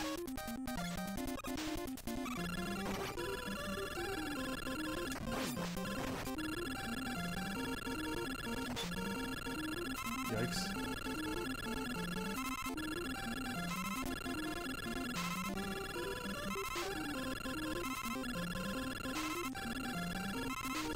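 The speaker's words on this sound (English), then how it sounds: "Sorry for the charge noise" A continuous buzzing charge-shot tone from Rockman 2 Rebirth, a Mega Man 2 fan game, runs under busy chiptune music with repeating electronic pulses and sound effects at constant loudness, with no talking.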